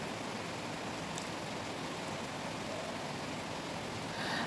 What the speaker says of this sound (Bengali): এত জোরে বৃষ্টি হয়। তো ওর জন্য আমি বালতিটা পেতে দিলাম